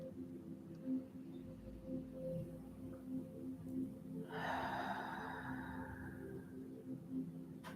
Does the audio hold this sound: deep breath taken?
yes